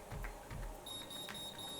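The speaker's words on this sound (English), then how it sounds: "that quick succession of beeps mean you release it completely and let your hair go" Automatic hair curler giving out a quick succession of faint high electronic beeps, short and evenly spaced, with no voices present.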